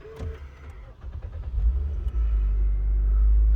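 A 2020 Lexus RC350 F Sport starts up close by, a brief crank catching into a deep, steady idle rumble that settles and holds to the end, with no talk.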